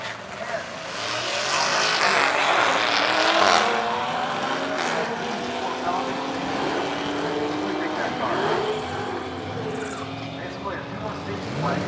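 A 2000-horsepower billet 2JZ Toyota Supra makes a drag racing run, its engine roaring steadily at a distance for the whole pass, with crowd and track ambience around it.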